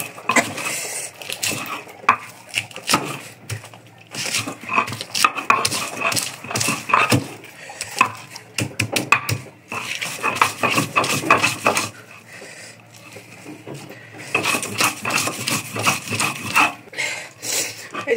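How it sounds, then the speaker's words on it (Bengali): Dried fish (shutki) mashed in a bowl, a repeated rhythmic grinding and scraping with clatter of utensil against the bowl, close and fairly loud, coming in bursts with brief pauses. "এখন হচ্ছে শুটকিটারে ভালো করে একটু বেটে নিব, মানে কাঁটাগুলো যাতে না থাকে"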